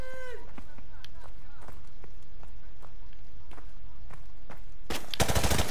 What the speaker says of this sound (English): Who's shooting at us?